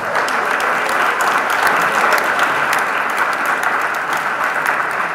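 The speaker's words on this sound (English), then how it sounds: "Give these disciples a round of applause." Steady, dense applause from a large church congregation in London, loud and sustained throughout with no talking over it.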